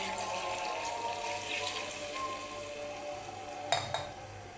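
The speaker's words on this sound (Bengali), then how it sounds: "একটু পানি দিয়ে দিই।" A steady kitchen hiss of water being added to a hot pot of cooking mutton curry, with a soft splash and clatter near the end; no talking.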